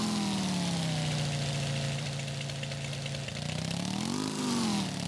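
A Brazilian motorcycle engine in a video game drones steadily near idle, its pitch sagging and then rising in a brief rev near the end, loud and close with no voices.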